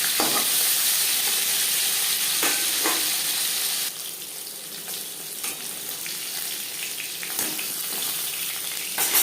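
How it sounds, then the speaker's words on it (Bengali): Katla fish pieces fry in hot oil with a steady sizzle that softens midway as they are turned over, with light scraping and spatter pops close by. "একটা সাইজ ভেজে নেওয়ার পর অপর সাইডটা উল্টে দেবে"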